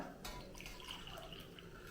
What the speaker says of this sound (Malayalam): ഞാൻ വേണ്ട ചായ ആദ്യം ഗ്ലാസ്സിലേക്ക് ഒഴിക്കുകയാണ്